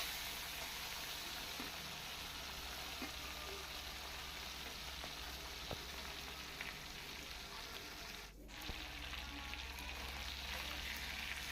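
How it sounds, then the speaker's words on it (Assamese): Small fish fry in a pan with a steady, close hiss of oil and faint popping that carries on throughout, with a brief dip near the end. "এতিয়া বাকি থকাখিনিও মই এনেদৰে ফ্ৰাই কৰি ল'ম"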